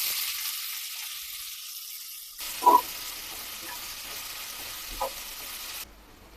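Chopped onions fry in oil with whole spices, a soft, faint sizzle and hiss with a couple of brief stirring knocks, then it cuts off abruptly near the end.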